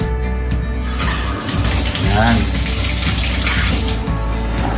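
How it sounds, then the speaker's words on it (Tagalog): A newly installed rain shower in a renovated bathroom, water pouring in a loud, steady hiss from start to finish, with brief voices over the spray. "It's a rain shower."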